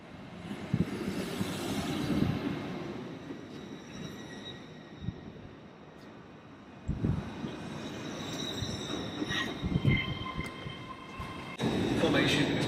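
A Lumo train bound for Newcastle and Edinburgh rumbles nearby at a station, with metallic wheel squeals and clanks over a steady background roar, and a person speaks over it.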